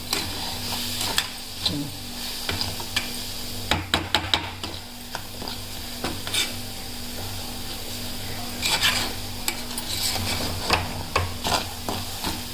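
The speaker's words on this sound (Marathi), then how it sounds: "आणि चम्मच यामध्ये फिरवत राहावं लागते कारण हे चिटकते खालून" A spoon stirs dal (lentils seasoned with turmeric and salt) in a pan, with soft continuous scraping and a gentle sizzle, broken by a few sharper clicks of the spoon against the metal.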